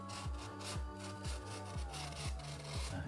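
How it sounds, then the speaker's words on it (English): A trimming knife slices through a scored wood slat wall panel, giving repeated scraping, rubbing strokes in a steady rhythm of about six passes, close and moderately loud with no voices. "you should just slice through quite easy with your trimming knife"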